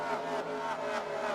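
Race cars in a sim racing game of the Cup Series at Atlanta sweep past in a quick flyby, a steady loud engine roar with a slight rise and fall in pitch across a short moment.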